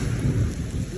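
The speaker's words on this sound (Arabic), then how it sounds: "مطر وخير." A heavy storm with hail near Shaqsan, south of Taif, brings dense, continuous rain and a deep, rumbling roll of thunder that fills the whole moment.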